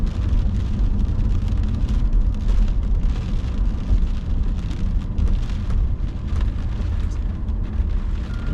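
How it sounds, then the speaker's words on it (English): Steady rain pours outdoors in Minot, North Dakota, a dense even hiss with low rumbling underneath, continuous and fairly loud throughout, with no one speaking. "Seems like we discovered rain again."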